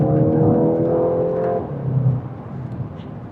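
Revving hard, the engine of a 2026 Volkswagen Golf GTI climbs in pitch, drops sharply at a gear change and then pulls again more quietly, heard close with no talk.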